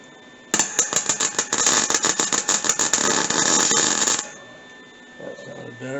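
A wire-feed welder welds a snow plow pulley mount for a winch on a CF Moto UForce 1000, giving off a loud, rapid crackling buzz for about four seconds before cutting off, followed by faint low sounds.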